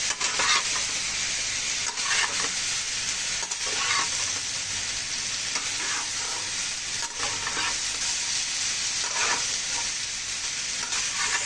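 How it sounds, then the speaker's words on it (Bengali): A paste of ground spices and turmeric mixed with water fries in hot oil and is stirred steadily: a loud, continuous close sizzle with soft scraping strokes throughout. "এবার মশলাটা সামান্য একটু ভেজে নেব যাতে মশলার কাঁচা গন্ধটা চলে যায়"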